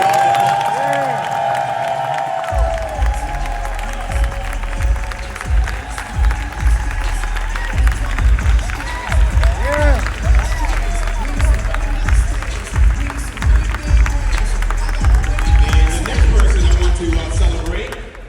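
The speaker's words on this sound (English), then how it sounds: "Give him a round of applause." An audience at a ceremony gives a round of applause for an honoree, clapping and some cheering in a large room, with a low thumping rumble and crowd noise continuing loudly throughout.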